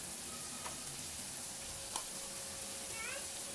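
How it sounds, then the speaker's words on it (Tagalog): Buttered shrimp stirred in a pan make a faint, steady sizzle with occasional soft scraping taps, heard alone and low in level. "Halo lang po ng halo para maging balanse ang pagkaluto nito."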